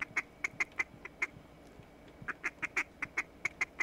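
Repeated duck quack calls in a bird hunting video game, sounding in two quick bursts of evenly spaced, sharp nasal quacks separated by a short pause, close and clear with no talk.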